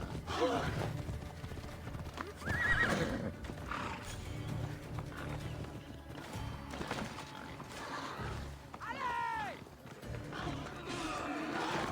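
A horse in a video game whinnies several times over rhythmic galloping hoofbeats, amid game noise and a person talking throughout.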